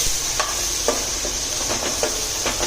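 Chopped onions sizzling in hot oil in a pan while cooking stuffed kantola curry, a steady hiss broken by several short scraping stirs of a spoon.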